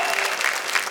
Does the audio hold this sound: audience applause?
yes